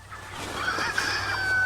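Chickens near a broken feeder give soft clucks and a brief honk-like call, close by and moderately loud over a low outdoor rumble.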